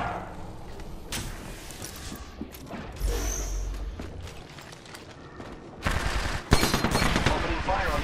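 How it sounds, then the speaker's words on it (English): Gunfire in the video game Apex Legends comes as bursts of rapid shots and sharp cracks, with a heavy thump partway through and a louder volley near the end, over steady game ambience. "Opening fire on the enemy."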